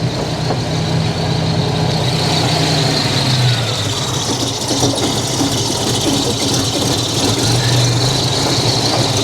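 A 1987 Buick Grand National engine idles roughly, a loud, close, continuous rumble with a steady mechanical whine and slight unevenness throughout, no voices.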